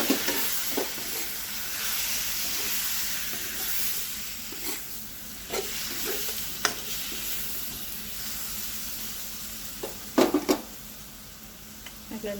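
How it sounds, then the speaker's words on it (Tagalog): Shrimp go into a pan of curry and set off a steady sizzling hiss, punctuated by occasional scrapes and clinks of a utensil against the pan. "Lalagay na natin yung ating shrimp."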